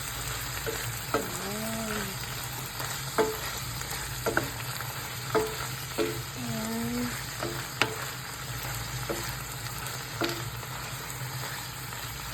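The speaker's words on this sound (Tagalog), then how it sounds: "Then, igisa natin ng sibuyas." Onions sautéing in a pan, a steady close sizzle with periodic stirring scrapes and clinks of a utensil against the pan, running unbroken throughout.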